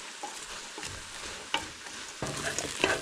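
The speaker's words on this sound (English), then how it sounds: "we're going to stir that in and let them cook down" Onions and garlic sizzling in a pan as they are stirred, a steady close frying hiss broken by a few scraping stirs and light clinks, no voices.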